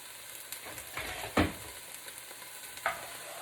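Garlic sizzles quietly in an enameled 6-quart Dutch oven, with soft spoon scrapes and a couple of sharper clicks against the pot over a low, steady frying hiss.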